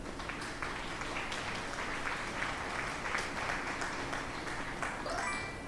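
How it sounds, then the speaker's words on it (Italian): Sustained applause from an audience opening a World of Tanks training session, a dense, steady clatter of many clapping hands lasting several seconds with no voices over it. "con un bel applauso"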